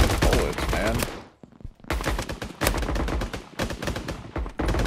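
Rapid bursts of gunfire from a shooter video game crackle loudly and almost continuously, with a brief lull before the firing resumes in dense volleys.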